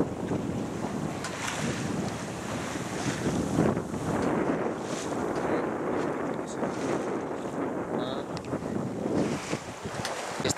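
Heavy wind buffets the microphone and waves splash around a heeled sailboat beating upwind off Mataró. The rushing, surging roar goes on without a pause, close and loud.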